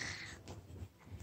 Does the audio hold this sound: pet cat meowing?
yes